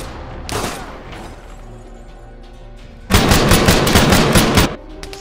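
Bursts of automatic gunfire from a Cold War Czechoslovak army scene in the ArmA 3 video game. A short volley is followed by a longer, louder rattle of rapid shots, heard close and with no speech.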